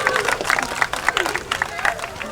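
A crowd at a sea lion show at Blackpool Zoo claps and cheers in a dense, continuous wash of applause, with a voice speaking over it.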